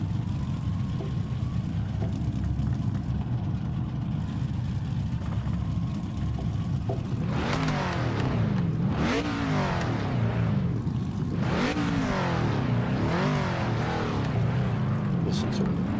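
Race car engine in Gran Turismo-style racing on PMR with the GT Icons DLC: steady low idle that rises into repeated sharp revving sweeps, climbing and falling several times, loud and close under faint background noise.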